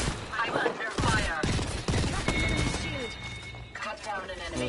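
Hemlok rifle firing in Apex Legends, a burst of sharp gunshots early on amid busy game effects, with players talking over the action.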